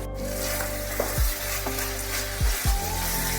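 Flat beans and small mourola fish with scraped tomato stirred in a frying pan with no water, a steady sizzle broken by several sharp scraping strokes of the spatula against the pan.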